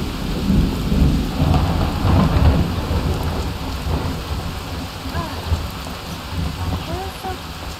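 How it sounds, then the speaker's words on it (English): A Skyrim thunderstorm with steady pouring rain over low rolling thunder that is strongest early on and eases slightly. A faint voice comes through in the later seconds. "Why are we always in such a big storm?"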